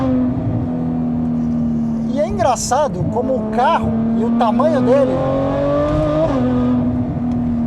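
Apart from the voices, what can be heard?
Ferrari F12 Berlinetta engine accelerating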